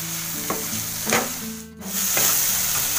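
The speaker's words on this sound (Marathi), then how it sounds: "चांगलं तेल सुटेपर्यंत परतून घ्यायचं" Spices such as red chilli powder, turmeric and garam masala sauté in oil in a pan, giving a steady sizzle with a few scraping stirs and a brief quiet dip.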